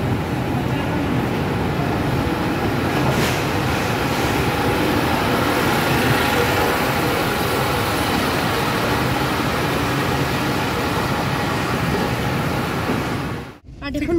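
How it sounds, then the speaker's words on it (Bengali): Howrah-Mysuru Weekly Express (22817) rolling steadily after leaving Rajahmundry station, a continuous loud broadband rumble of wheels and carriage noise throughout, briefly dropping near the end. "তাহলে এখন আমাদের ট্রেন রাজামুন্ডুরি স্টেশন ছেড়ে দিয়েছে।"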